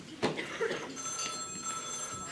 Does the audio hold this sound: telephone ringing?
yes